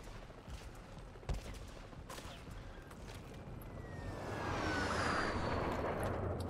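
Gunfire and an airstrike in the iOS shooter Modern Combat 5 during a tournament match: a steady crackle of distant shots with a sharp blast early on, building into a louder rushing roar of aircraft and explosions, with no talking.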